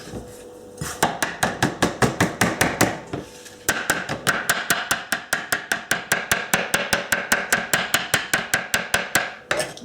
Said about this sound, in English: So I'm just going to chop this up into little fine bits